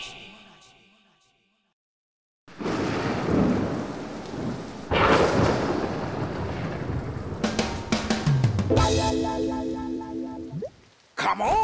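Rain pours and thunder crashes in a Hindi children's cartoon, a steady loud downpour with rumbling cracks, following a burst of music, with some brief sounds over the storm.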